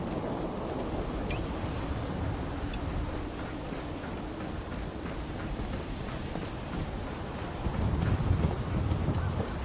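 Stormy weather in the game Fallout 4 VR, a steady broadband rumble of rain and wind with low thunder swelling louder near the end, continuous and fairly close.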